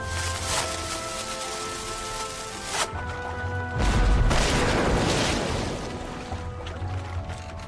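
A cannon fires in the adventure video game Jack Keane 2, a heavy booming crash over a steady game soundscape, followed by a rumbling, rain-like scatter of debris.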